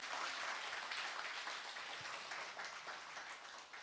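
A church congregation applauding during a Sunday worship service, a soft, steady patter of many hands heard from a distance for a few seconds.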